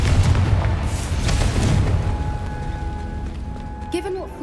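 A Confringo spell explosion in a video game: a loud, low booming blast at the start that rumbles and decays over several seconds, with a short burst of game sounds near the end.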